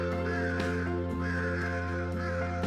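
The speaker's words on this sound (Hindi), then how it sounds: "कौवे अपने मरे हुए साथियों के लिए इकट्ठा होते हैं और कांव कांव करते हैं" Crows cawing in a short burst, harsh repeated calls rising over a steady, loud background hum.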